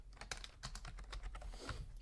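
A number is typed on a computer keyboard, a quick run of close, quiet key clicks lasting about two seconds.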